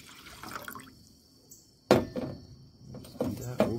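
Strained homemade sumac tea is poured into a vessel in short splashing bursts with trickling between them, close by, with faint background sounds around the pours.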